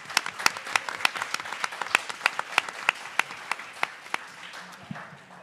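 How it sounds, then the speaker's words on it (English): A small audience claps, individual sharp claps standing out in an uneven rhythm that gradually thins and fades. "So let's give Ernesto a round of applause"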